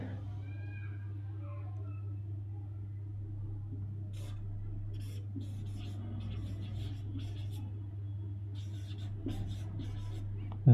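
Marker or chalk writing on a classroom board during a spoken English lesson, producing faint scratchy strokes in short bursts under steady low hum, with someone talking.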